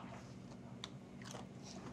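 Hot, crunchy fried bacon being bitten and chewed in a home kitchen, with faint, close crunches and soft mouth sounds at a low level and no talking.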